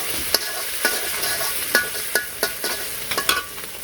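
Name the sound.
frying and stirring spice paste (masala) in a pan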